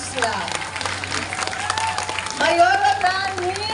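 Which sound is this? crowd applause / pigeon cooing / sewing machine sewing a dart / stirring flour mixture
crowd applause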